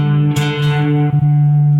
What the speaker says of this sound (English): the reverb is on now